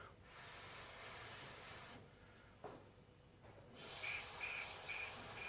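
Air blown through the bleed nipple of a brake caliper during a strip-down gives a soft, steady hiss that thins out briefly in the middle, then returns as a brighter rushing hiss with faint whistling tones near the end.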